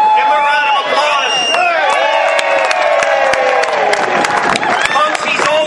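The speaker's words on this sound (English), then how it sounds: "Give him a round of applause." Audience at a political rally breaks into loud, sustained applause mixed with cheering and whoops, a dense crowd roar filling the whole stretch.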